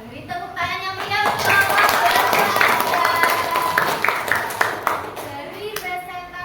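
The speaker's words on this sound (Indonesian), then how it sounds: "Beri tepuk tangan yang meriah" Children in a classroom clap enthusiastically after a group presentation on the continent of Asia, a lively burst of many hands that builds and then tapers, with a teacher and kids talking around it.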